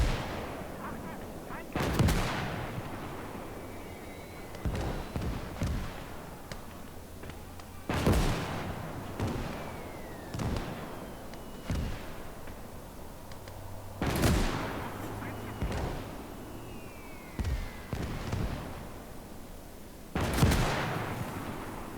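Gunfire and artillery in the WWII strategy game Gates of Hell during a Soviet skirmish at Smolensk, with heavy booming shots roughly every few seconds, scattered smaller gunshots between them, and occasional quiet talk.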